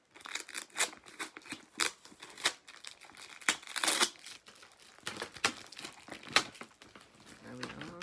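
A sticker or label being ripped off a model of a TUI Belgian Boeing 737-800, heard as close crinkling, tearing and peeling bursts in an uneven rhythm, with a voice breaking in toward the end.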